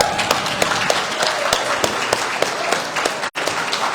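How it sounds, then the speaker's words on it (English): Applause from an audience at a community celebration, a dense, steady wash of many hands clapping at close range that briefly cuts out near the end before resuming. "I want to give a huge round of applause for Brandon Montour"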